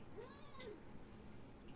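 A cat meows twice, a short rising-falling call then another, fairly quiet against a steady background hiss.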